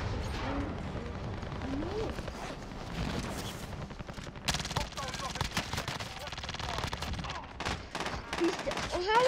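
Dense gunfire from the video game Warzone, with rapid bursts and booming shots layered over music and game effects, continuous and loud throughout with sharper hits toward the end.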